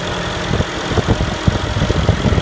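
A 2014 Mercedes-Benz CLS63 AMG S-Model 4Matic coupe with a 5.5-liter bi-turbo V8 idles close by, a loud, steady low rumble with uneven throbbing pulses, no voices.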